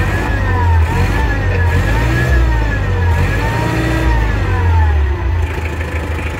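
An ISEKI TA370 Japanese mini tractor with a cab and loader drives past close by, its small diesel engine droning loudly and steadily with slight revving throughout.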